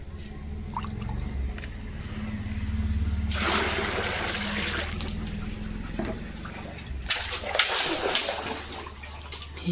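Water poured over a German Shepherd's feet, a steady trickling splash that swells midway and again near the end, with a low murmur of voice underneath.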